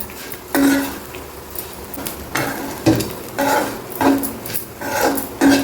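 Bitter gourd fry being stirred in a pan, a spatula scraping and clinking against metal in regular strokes roughly every second over a soft sizzle, close and clear with no speech.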